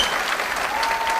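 A church roadshow audience breaks into dense, sustained applause, many hands clapping together in a steady wash of sound that holds at full strength throughout.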